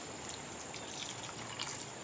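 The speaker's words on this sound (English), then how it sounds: "I'm just going to keep watering these guys" Water is poured onto potted cacti and succulents, a soft, faint, continuous trickle and patter close by with no one talking.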